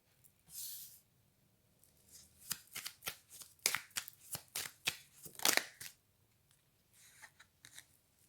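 Playing cards riffled and shuffled in a quiet room, with a soft opening riffle followed by a quick run of crisp snapping flicks and slides as cards are drawn, then a brief riffle near the end; close and fairly quiet.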